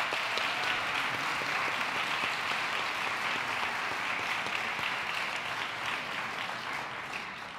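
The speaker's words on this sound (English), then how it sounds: "Let's have a round of applause for all three candidates" An audience at a federal election debate applauds the three candidates, with a broad, continuous wash of clapping from a large crowd that stays loud and even, tapering only slightly at the end.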